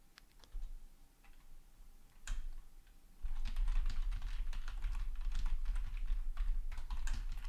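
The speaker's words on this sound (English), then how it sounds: "I'm typing in a message to the folks on the wrong channel" Rapid keystrokes on a computer keyboard while a message is typed, a few isolated clicks at first, then a dense, steady clatter of close typing filling the second half.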